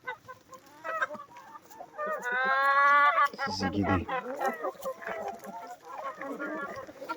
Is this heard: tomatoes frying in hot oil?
no